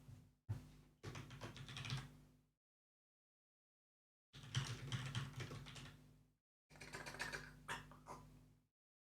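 Rapid clattering keystrokes on a computer keyboard in three bursts separated by silence, close and moderately quiet, with no talking.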